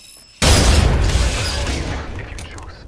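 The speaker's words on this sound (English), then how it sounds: "Caution. Opening explosive." A sudden loud boom from an explosive in Apex Legends, a burst of broadband blast that hits near and then decays slowly into a rumbling tail over a couple of seconds.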